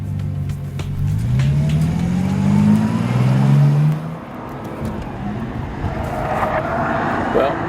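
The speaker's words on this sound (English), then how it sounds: "driving this new extreme Bentley around this phenomenal track" A Bentley Continental Supersports drives the Nürburgring track, its engine droning and rising in pitch as it accelerates, then the note drops and settles into a steady roar under a loud rush of wind and road noise.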